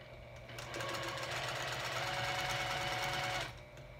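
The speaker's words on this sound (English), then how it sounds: "So I'm gonna start by sewing an X" Sewing machine stitching an X through fabric and layers of batting, a rapid even mechanical whir starting up, running for about three seconds, then stopping.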